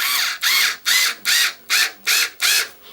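A Harbor Freight cordless screwdriver drives a 1.5 inch screw in seven even whirring pulses, each rising in pitch, with short pauses between bursts, close and fairly loud.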